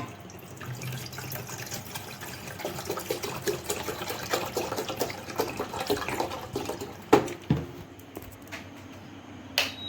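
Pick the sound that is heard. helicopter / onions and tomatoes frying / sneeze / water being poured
water being poured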